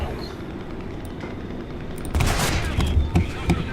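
In the War Thunder tank game, artillery and tank gunfire burst in loud, rumbling blasts in the second half, following a quieter stretch of low background rumble.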